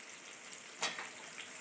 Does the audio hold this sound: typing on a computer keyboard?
no